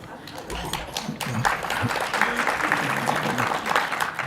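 Audience at a policy conference on Canada's fiscal situation breaks into applause, a dense, steady wash of clapping from many hands that swells after the first second and holds loud to the end.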